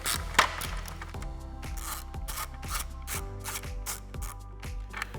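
A bolt being unthreaded from the grille of a 2018-2020 Ford F150, heard as a rapid, repeating ratchet clicking and grinding, close and steady with no voices.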